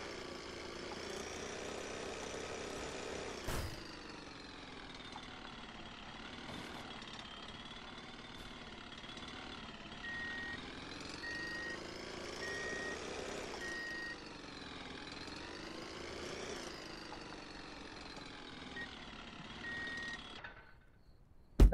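A truck engine in a video game drones steadily for about twenty seconds, its pitch rising and falling as the vehicle moves, with a short sharp knock near the start and no voices.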